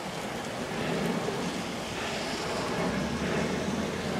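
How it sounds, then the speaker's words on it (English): Heavy rain pours down outdoors in Richmond Park after a bike ride, a dense, steady, loud hiss that holds unbroken throughout with no voices. "it's absolutely pouring with rain now."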